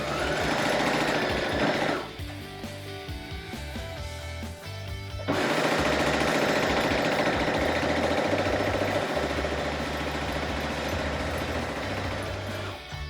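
A sewing machine stitching fabric runs in a fast, steady mechanical chatter at close range, pauses briefly, then resumes and runs continuously to the end.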